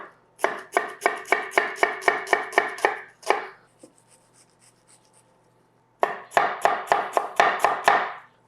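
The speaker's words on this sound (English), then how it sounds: "Just chop it up small, because you don't want enormous chunks of onion in your mouth" A knife chopping onion small on a cutting board: two quick bursts of about ten crisp, evenly spaced strikes each, separated by a short quiet pause, close and clear with no talking.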